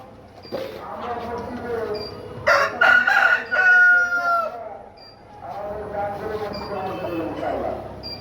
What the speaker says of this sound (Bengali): দেখেন এটা অরিজিনাল টাইগার মুরগির প্যারেন্টস